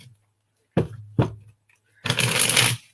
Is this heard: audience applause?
no